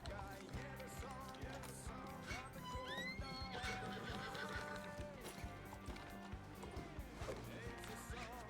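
A horse whinnies in a ranch roleplay video game, its neighs rising over a busy, cluttered mix of in-game sounds, hoof clip-clops and background music.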